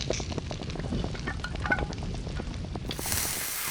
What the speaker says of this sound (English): and the crackling fire in the home fireplace.